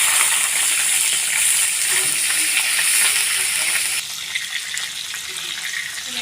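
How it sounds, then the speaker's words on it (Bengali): Leaf-wrapped hilsa paturi fries in hot oil in a kadai, giving a steady bright sizzle that drops noticeably quieter partway through, with no talking. "দিয়ে আমি পাতুরিটা ভেজে নেব।"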